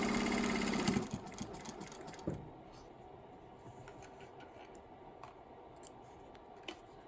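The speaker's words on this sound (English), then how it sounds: "sew right across on that line" A sewing machine stitches straight across a marked line on a pieced flying geese quilt block, a steady close whir that runs loud for about a second and then drops to a low hum with light clicks.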